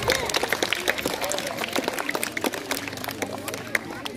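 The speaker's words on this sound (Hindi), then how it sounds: "दुर्गा क्लास 7 जोरदार तालियों की गूंज के साथ" Audience applause at a school event, a crowd clapping with dense, uneven patter throughout, mixed with background voices.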